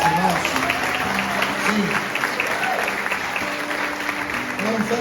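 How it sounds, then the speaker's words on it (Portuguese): A church congregation applauds during a Sunday service, with steady, dense clapping that runs throughout while a voice speaks over it. "Vamos aplaudir Jesus a vida desses irmãos."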